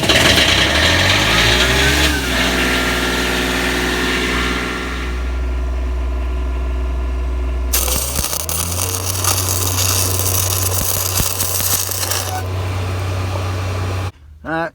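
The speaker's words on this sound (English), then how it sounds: "fire up, and we're ready to weld" Engine-driven welder on a job beside a CAT D6R dozer cranks over and fires up, settling into a loud, steady close running drone that shifts pitch partway through, with no talk.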